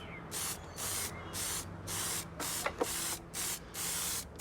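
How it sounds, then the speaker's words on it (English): Textured coating sprayed from about 6-8 inches onto an RV camper build surface, heard as a series of steady hissing bursts of roughly half a second each, separated by short pauses, with a couple of faint clicks near the end. "Spray it evenly, spray on."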